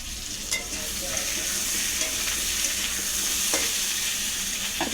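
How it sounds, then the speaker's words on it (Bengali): Cut potatoes fried in oil with dried chilli and cumin tempering, stirred in a pan with a spatula: steady soft sizzling close by, with light scraping strokes. "একটু খুন্তি দিয়ে নেড়ে নিলাম।"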